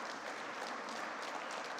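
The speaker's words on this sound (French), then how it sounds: "Je vous demande d'applaudir Cécilia, Caterina, Hélène" An audience at a seminar on the Italian and French languages breaks into steady, even applause, a continuous wash of clapping with no voices over it.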